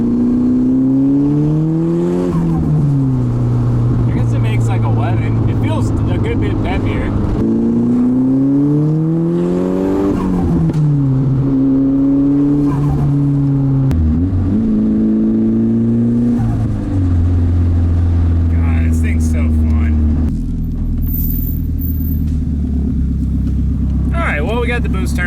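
A Nissan Pulsar GTI-R with turned-up turbo boost revs and accelerates hard through several gear pulls, the loud engine note climbing and dropping repeatedly up close across the whole stretch.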